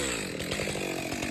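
A chainsaw cuts into a felled ash log along chalk lines, its engine a loud, close, steady buzz with a rapid pulsing chatter as the chain bites the wood.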